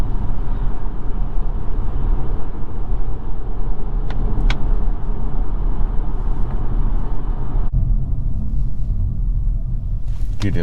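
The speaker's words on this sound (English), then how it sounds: "Get the electric whirring noise." Inside a 2022 Volvo S60 T8 Recharge Inscription plug-in hybrid on the move, a steady loud rumble of road and drivetrain noise holds throughout, with a faint whir under it and no voices.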